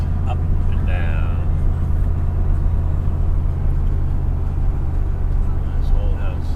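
Steady, close car engine drone heard from inside a vehicle driving through rural Vermont, with the pitch shifting slightly as the driver downshifts. Faint voices murmur beneath the engine noise.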